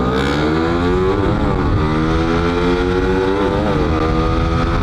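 A stock-engine Suzuki Raider FI underbone motorcycle fitted with a slipper clutch accelerates hard in a drag race, its engine note rising loud and close as it climbs steadily through the gears with brief dips at each shift.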